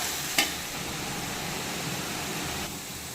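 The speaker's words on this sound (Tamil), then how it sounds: "வெங்காயம் நல்லா பொன்னிறம் வர வரைக்கும் நல்லா வதக்கிக்கலாம்." Chopped onions sautéing in a pan for quail gravy, a steady soft sizzle with a brief clink of stirring near the start, with no talking.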